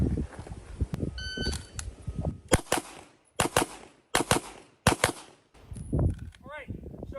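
Pistol shots fired in a doubles drill on a range: several sharp, loud cracks come in close pairs over background noise, with a faint electronic beep early on and some voices.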